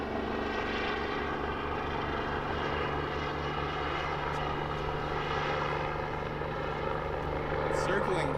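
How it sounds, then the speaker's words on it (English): A helicopter circles overhead during a river race run in Outingdale, California, a continuous droning rotor and engine sound that holds steady, with people talking nearby. "The helicopter's circling us."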